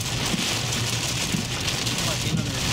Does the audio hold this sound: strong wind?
yes